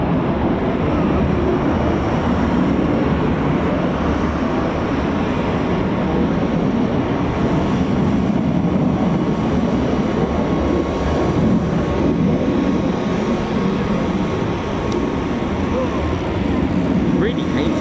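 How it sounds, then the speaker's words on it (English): A Eurofighter Typhoon FGR4 jet lands at RAF Coningsby, a broad steady rumble of engine noise heard from a distance, sustained and even throughout. "Just see our last Typhoon land."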